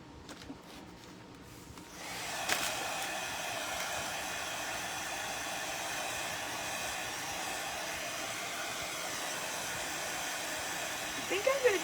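A handheld hair dryer blows steadily on a freshly painted wooden sign, switching on after a quiet start and running as a loud, constant whir to the end.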